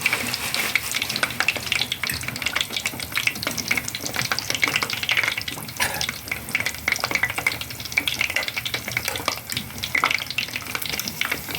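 Potato pieces frying in shallow oil, a bright, crackling sizzle with constant rapid pops and spits, steady and fairly loud for the whole stretch with no talking.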